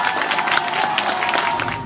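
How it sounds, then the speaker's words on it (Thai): Brief applause at a family birthday party, scattered clapping and crowd noise with a few cheers mixed in, fairly close and steady. "ขอเสียงปรบมือให้กับอัญจุนด้วยค่ะ"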